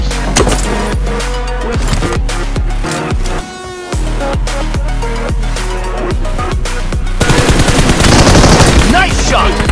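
Rapid automatic gunfire in the mobile battle game PUBG Mobile, dense bursts of sharp repeated shots with a brief pause midway and louder, heavier firing toward the end.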